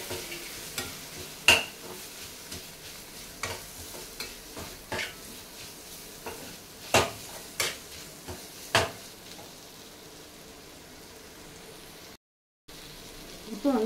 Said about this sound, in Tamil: இப்போ நல்லா வதங்கின பிறகு கொத்தமல்லியும் புதினாவும் நல்லா வச்சுட்டு அதையும் போட்டு வதக்கணும்.